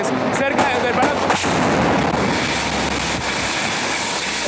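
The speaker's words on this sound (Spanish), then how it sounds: "Exactamente en ese momento está cayendo uno de los cohetes cerca del palacio." A rocket fired from a Bronco plane explodes near Miraflores Palace, heard as a loud, continuous broadband roar with heavy wind buffeting and no single sharp blast standing out.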